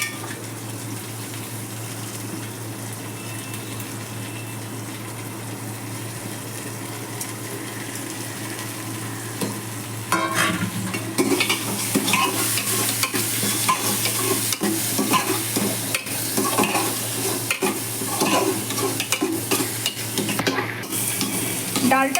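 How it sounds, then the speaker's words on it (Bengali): Washed lentils are stirred and fried in a pot over fried onion, giving a low steady hiss that swells into louder, busier sizzling with repeated scraping and stirring strokes partway through. "এই ডালটা আমি হাঁড়িতে দিয়ে নেবো একটু নাড়বো"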